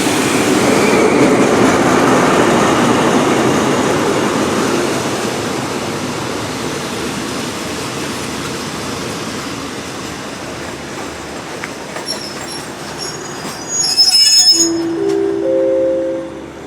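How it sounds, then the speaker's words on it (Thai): Passenger train 108 from Den Chai to Krung Thep Aphiwat at Bang Mun Nak station at night, a loud steady rumble of rolling cars that fades, followed by clanks and a brief squeal as it settles at the platform. "ขบวนรถที่จอดชานชลาที่หนึ่ง"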